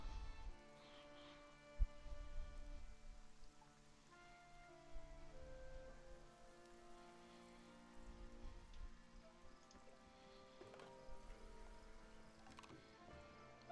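Steady, soft rain patters without pause in a medieval city-building video game, a faint continuous hiss with light droplet ticks and a low musical bed underneath.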